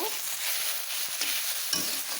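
Greens with green chillies and chopped jackfruit seeds fry in a pan, giving a steady, close hiss of sizzling oil throughout with no talk.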